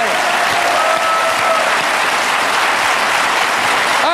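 A TV studio audience applauds a singer with loud, dense, steady clapping that fills the whole stretch without letup, up close and energetic.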